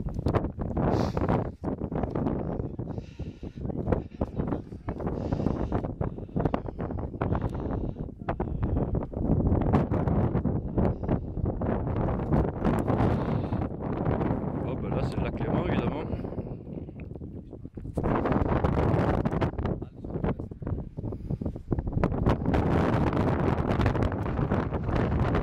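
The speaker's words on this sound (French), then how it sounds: "avec le vent qu'il y a, on va pas m'entendre" Heavy, continuous wind near the Cornettes de Bise summits buffets the microphone, loud and gusty throughout, with a brief lull partway through before it surges again.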